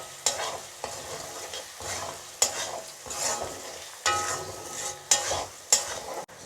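Egg with salt, turmeric and chili powder frying in a pan for a mukdal dish, heard as repeated stirring scrapes over a soft sizzle, close and moderately quiet, in uneven bursts.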